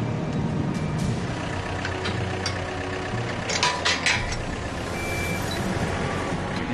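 A heavy truck tractor unit with a built-in cable winch slowly pulling a new train car from a delivery truck onto a terminal trailer, a steady diesel drone with reversing beeps and short air-brake hisses.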